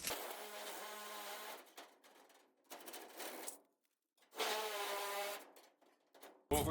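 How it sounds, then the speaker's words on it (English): Powered turbo shears cut through sheet-metal duct during a home gas furnace replacement. Three drawn-out, buzzing mechanical whines are separated by brief pauses, and a short final burst follows, all loud and close. "let's grab our turbo shears and cut that out"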